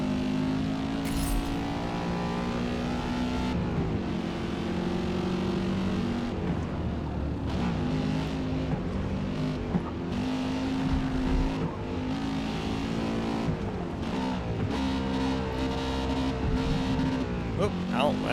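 Race car engine in Forza Motorsport with manual gear shifting: a continuous, loud, droning roar that climbs and drops with shifts and revving, and someone talks over it now and then.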